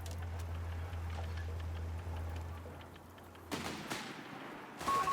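Repeated gunfire in a Company of Heroes 3 1v1 match against an AT rifle squad, several distant shots cracking over a low steady battlefield hum.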